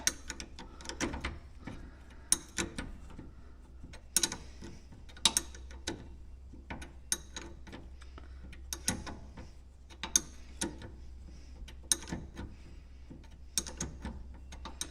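A 15 mm wrench works loose a brake caliper on a Polaris Trail Rider 570, giving irregular sharp metallic clicks and ratcheting clanks over a low steady hum, close and without speech.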